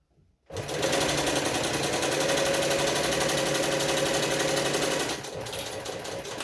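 A sewing machine stitching a tag onto a piece of fabric: after a brief quiet start it runs at a fast, steady, loud rattling whir for several seconds, then slows to a lighter run for the back stitch.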